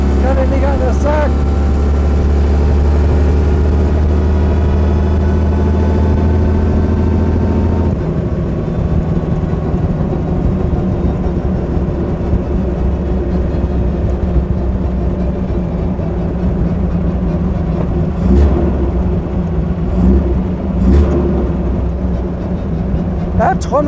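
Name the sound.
1928 Mercedes SSK 7.1-litre supercharged engine driving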